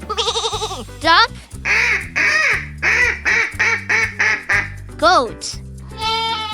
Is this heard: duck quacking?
yes